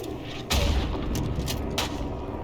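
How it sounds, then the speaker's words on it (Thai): Gunfire in a World War I first-person shooter, with a loud sharp shot near the start followed by further cracks and rumbling battlefield noise throughout. "มันกำลังยิงเรา"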